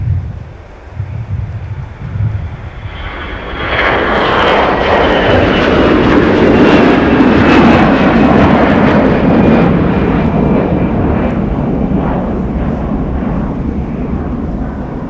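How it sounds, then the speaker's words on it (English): An airliner takes off from snowy Minneapolis–Saint Paul airport in winter, its jet engines building from a faint start into a loud, sustained roar that swells and holds, with some wind buffeting the microphone. "quick takeoff"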